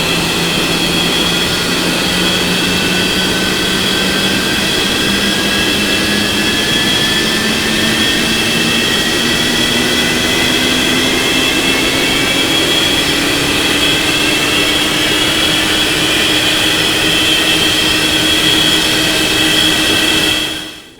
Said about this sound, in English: Let's look at the exterior sounds of the engine start.